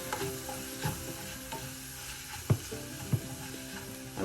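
Chicken liver with chili and black pepper powder being stirred in a pan for a pepper fry: steady low sizzle with a few sharp scraping clicks of the spoon against the pan, near and alone.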